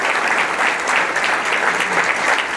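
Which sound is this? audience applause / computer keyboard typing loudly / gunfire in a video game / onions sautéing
audience applause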